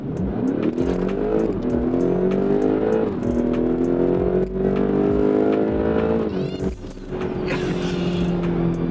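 A 2016 BMW X5M (F85), a damaged rebuild tuned to 702 hp, accelerates hard at full throttle, its loud engine note rising steadily with brief dips at gear shifts across the whole run, heard from close by.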